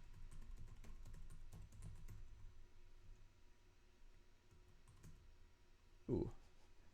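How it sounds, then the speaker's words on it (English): Key clicks from a Bluetooth computer keyboard tap out a quick, quiet run over a low hum in the first few seconds, then thin out, with one louder knock near the end. "I love having a Bluetooth keyboard, but I also hate waiting for it to turn on"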